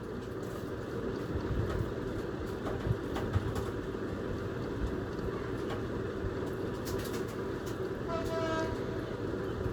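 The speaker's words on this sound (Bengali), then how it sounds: "এখানে ট্রেনটির ইঞ্জিন পাল্টানো হচ্ছিল।" Station ambience at Poradaha railway station while a train has its engine changed, a steady low rumble of idling locomotive and rail noise throughout, with faint voices and brief horn-like tones near the end.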